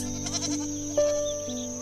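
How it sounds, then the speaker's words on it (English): Goats bleating up close, a couple of wavering, nasal bleats one after another, loud and clear with no talking. "Hello, goats."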